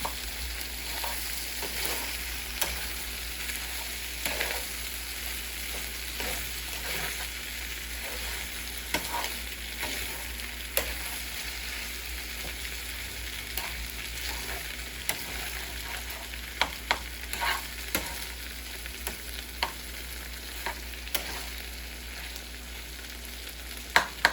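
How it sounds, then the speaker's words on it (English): Steady sizzling of cooked rice with Spam frying in a hot pan, with occasional scrapes and taps from stirring, close by and without voices. "Keep breaking it up and frying it in the pan."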